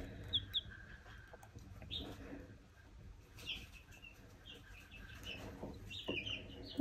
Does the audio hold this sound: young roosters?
yes